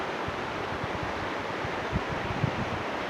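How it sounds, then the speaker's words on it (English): Steady wind rushing outdoors at a rocket launch, a continuous broadband roar with low gusty buffeting against the microphone and a couple of brief thumps, no talking. "There's a wind, Dick."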